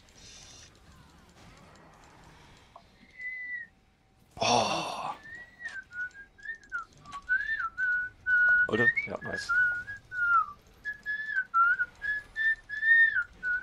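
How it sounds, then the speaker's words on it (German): A person whistles a wandering tune in short phrases over game voice chat, with brief talk and a loud crash-like burst near the start of the whistling. "Hör mal auf zu pfeifen"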